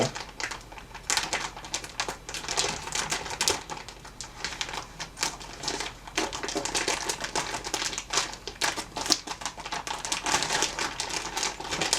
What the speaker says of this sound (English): we're going to cut it straight across all the way around.